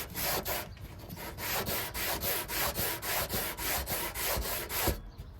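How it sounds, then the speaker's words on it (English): A fiberglass mirror on an MK3 Supra drift build being sanded by hand, with rapid, regular back-and-forth rasping strokes, loud and close, that stop near the end. "We're gonna sand this."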